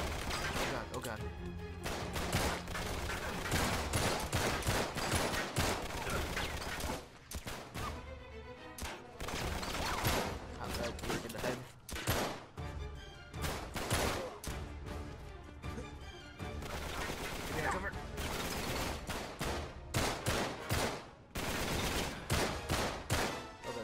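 Gunfire in Uncharted 3: Drake's Deception, dense near continuous volleys of loud shots with brief lulls, mixed with impacts and game noise and occasional talk over the action.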